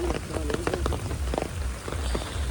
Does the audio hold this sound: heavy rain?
yes